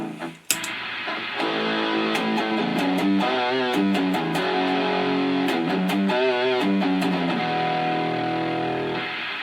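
A distorted electric guitar is played through an amp with no noise gate, buzzing hum between notes, sustained chords ringing and fading over steady background noise.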